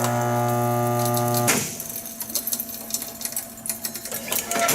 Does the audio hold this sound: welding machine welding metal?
yes